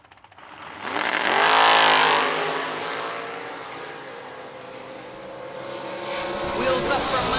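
Drag race cars launch down the strip at an FTD Customs end-of-year event, a loud engine roar swelling in the first two seconds, then a sustained high whine that fades into the distance, with an announcer talking over it.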